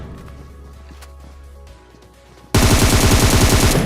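Loud automatic gunfire from the battle royale game PUBG during a close fight, a rapid burst of shots that breaks in abruptly after a quieter stretch of ambient game sound and keeps hammering without pause.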